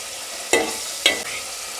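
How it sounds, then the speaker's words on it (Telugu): Dried fish frying in a curry base in an oiled pan, with a steady soft sizzle and two sharp stirring scrapes about half a second apart, close and without talk. "మెల్లగా కలుపుకుంటూ వేయించుకోవాలి."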